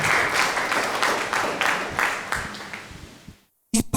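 Audience applause at a Christmas church service, dense clapping in waves that gradually tapers off and cuts to silence before a brief final burst of sound.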